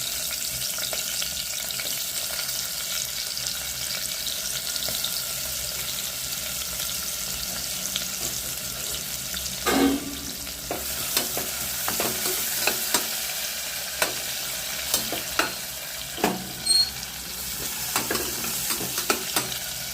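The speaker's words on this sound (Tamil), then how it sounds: "வெங்காயம் வதங்கட்டும்." Onions sizzle steadily in a pan with fennel seeds and cardamom, a constant close frying hiss broken by occasional stirring scrapes and clinks.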